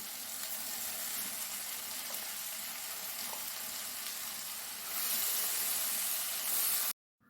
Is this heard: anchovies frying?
yes